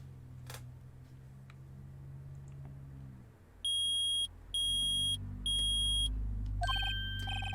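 Metal detector beeping in the Ace Attorney video game, three loud steady electronic tones in a row with short gaps, then a brighter warbling alarm, over a low musical background.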